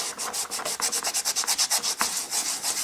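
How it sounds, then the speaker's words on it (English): A kitchen towel soaked in lighter fluid is rubbed briskly back and forth over old glue residue on a plastic vintage He-Man Castle Grayskull toy, a close, rhythmic swishing of about a dozen quick strokes. "So if I put a liberal amount on this kitchen towel and then just sort of rub it in"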